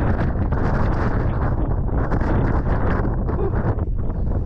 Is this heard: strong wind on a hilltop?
yes